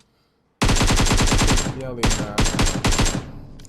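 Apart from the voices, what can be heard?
AK rifle firing in the video game PUBG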